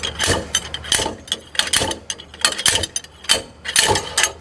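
Axle with its bearing and seal being pulled from the rear hub of a Nissan Xterra, giving a run of close metallic clunks, scrapes and rattling knocks in uneven bursts, with no talking.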